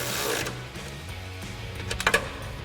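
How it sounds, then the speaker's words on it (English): A ratchet with a 13mm socket on an extension tightens running-board bracket bolts on a 2019-2023 Silverado 1500, giving a steady mechanical whir and then a short burst of close, sharp clicks near the end. "we'll grab our 13mm socket and extension on our ratchet and go ahead and tighten these down"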